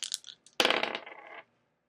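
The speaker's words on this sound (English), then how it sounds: "we're going to go ahead and throw the dice that have no name" Astrology dice rattled in a hand and then tossed onto a surface, a short clatter of hard dice tumbling and settling, close and quiet with no talking.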